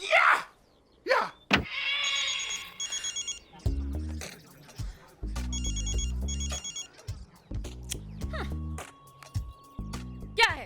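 Telephone ringing in a Hindi romantic film scene, repeated electronic ring bursts in a steady pattern between short breaks, with people talking over and between the rings.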